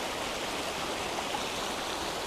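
Broadband rushing water of a river flowing beside someone sitting on the bank on a rainy day, the muddy current giving a steady, even wash of noise with no breaks.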